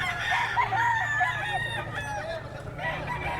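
Stag roosters crow at a busy Bocaue pet market, several rising and falling calls overlapping close by over a low steady hum of crowd and market noise.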